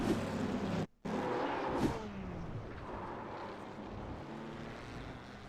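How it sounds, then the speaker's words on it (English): A high-displacement Corvette GT1 race car engine in iRacing at Spa roars loudly and steadily, with a brief cut in the sound near the start followed by a rising, revving pitch. "you can hear Bjorn coming in that high displacement Corvette."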